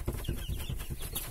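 Month-old Kuchinsky and Adler breed chicks cluck and peep in a quick, rhythmic series of soft calls, fairly close and steady, with no voices.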